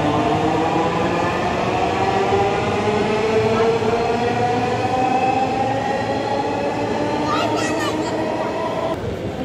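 A metro rail train runs at Mirpur 10 station in Dhaka, a loud continuous rumble of wheels and motors with a rising electric whine and brief squeal near the end.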